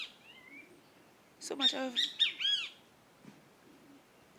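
Birds singing outdoors among leaves and trees, a burst of several clear chirps and whistled calls close by, with brief speech before and soft ambient quiet after.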